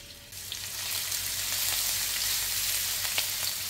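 Garlic sizzles in hot cooking oil for a Filipino embutido, a loud, even hiss of frying that swells in just after the start and holds steady, close to the pan.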